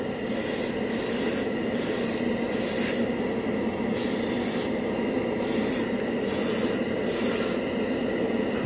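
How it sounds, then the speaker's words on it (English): An airbrush sprays Alclad chrome paint in a continuous close hiss, with the airflow briefly easing at regular intervals as the trigger is worked. "great airbrush too, by the way"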